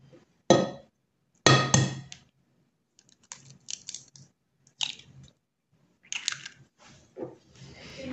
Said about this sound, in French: Ensuite, je viens rajouter mes œufs.